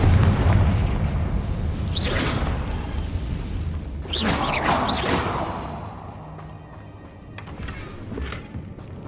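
Blasting-spell explosions from Confringo in the video game Hogwarts Legacy: a heavy rumbling boom, then whooshing bursts and crashes a few seconds apart, loud against a dense game background.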